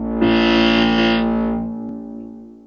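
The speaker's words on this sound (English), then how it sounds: "I think that's a cruise ship!" A cruise ship's horn sounds in one long, loud, steady blast with a rich stack of tones, then fades out over a couple of seconds, with no talking.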